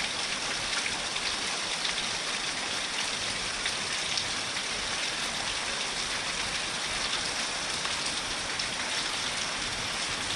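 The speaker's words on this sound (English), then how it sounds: "We are getting one healthy rain. It's filling up the rain gutter," Heavy rain pours steadily, filling a rain gutter and a bird bath, as a constant dense hiss of drops that stays even and fairly close throughout.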